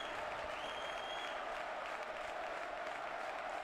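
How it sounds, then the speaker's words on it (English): Supporters at a German third-division football match between TSV 1860 München and Viktoria Berlin roar and applaud in the stadium, a dense, steady crowd noise that stays loud throughout with a faint whistle-like tone above it. "Supporters back on their feet,"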